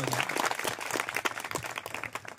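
An audience at a school coaching-centre award ceremony claps for a top-performing ninth-grade student, brief moderately loud clapping with uneven, scattered hand strikes over a short stretch.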